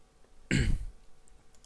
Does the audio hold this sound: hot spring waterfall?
no